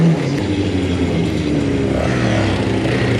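Crosskart race car accelerating hard in first gear on a track day, its engine roaring loud and close in one sustained, rising blast with no speech.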